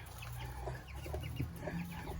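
A Buff Orpington hen in a backyard flock clucks in short repeated calls over a low background hum, fairly close and moderately quiet.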